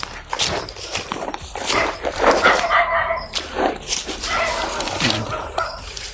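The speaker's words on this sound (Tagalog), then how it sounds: "May mga aso talaga." Several dogs bark and yip close by in a noisy outdoor scene, with overlapping barks and whimpers under general background commotion.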